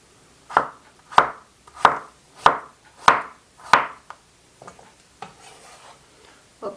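A knife chops through a choko on a cutting board, six steady, evenly spaced close thuds followed by a few lighter, scattered cuts.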